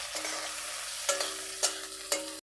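Onions frying in hot oil in a pan, a steady close sizzle broken by three brief louder crackles as the pieces are stirred, with no one speaking.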